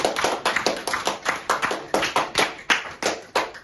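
Church congregation clapping in applause, a steady series of sharp close hand claps with a slightly uneven rhythm, heard alone without talk.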